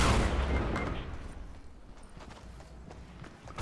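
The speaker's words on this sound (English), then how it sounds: "Some explosions going on." Explosions and gunfire in Fortnite Battle Royale, with a loud blast at the start fading into scattered shots and rumbling, then another burst near the end.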